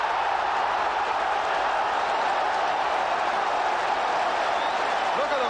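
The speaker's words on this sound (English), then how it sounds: "Look at them applauding in the stands, old and young." Football crowd in the stands at a 1981/82 Tottenham Hotspur versus Manchester City match, applauding after a goal; a steady, dense wash of clapping and crowd noise carries evenly throughout, with no single voice standing out.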